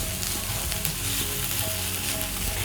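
Crushed garlic and ginger fry with onions in a hot pan for a beef mince dish, giving a loud, dense, continuous sizzle right up close with slight stirring.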